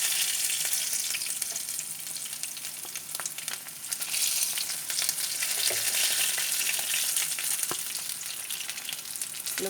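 Pieces of fish sizzle and crackle steadily in hot oil throughout, a dense frying hiss with occasional sharper pops and faint utensil sounds, close and alone.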